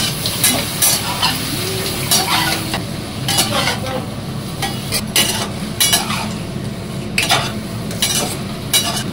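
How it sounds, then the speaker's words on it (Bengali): Fish fry in hot oil in a home kitchen, a steady close sizzle broken by repeated scraping and clinking of a metal spatula against the pan. "মাছগুলো সুন্দর করে ভাজা হয়ে গেছে"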